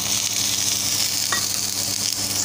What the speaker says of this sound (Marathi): आणि कांदा लाल होईपर्यंत आपण भाजायचा आहे।